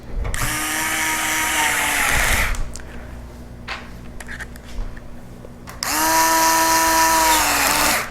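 A power driver whirs as it drives bolts into a computer case panel, two sustained high-pitched runs of a few seconds each with a quieter pause of handling noise between them.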